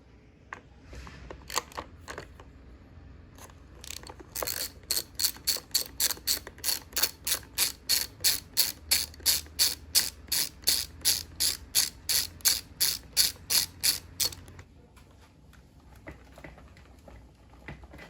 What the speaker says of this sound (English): I'm going to pull this screw out